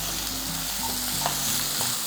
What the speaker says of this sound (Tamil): பாருங்கள், வெங்காயம் இது எல்லாமே நல்லா வதங்கிடுச்சு